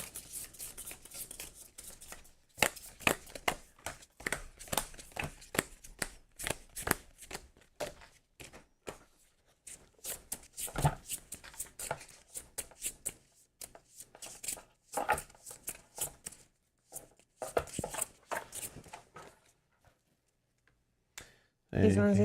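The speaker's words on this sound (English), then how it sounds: "Oh, yeah, I should shuffle this too." A deck of game cards for an Elder Scrolls board game gets shuffled repeatedly in bursts of riffling and clicking. Quiet pauses fall between the bursts, and a brief louder sound comes at the end.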